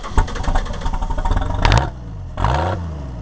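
A small under-tiller engine sputters, then catches and runs with a rough, close mechanical clatter, dipping briefly before surging back up.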